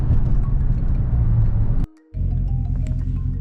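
A Saturn Sky on the road, heard as a steady low engine and road rumble. The drone holds constant, drops out sharply for a moment, then resumes at the same level.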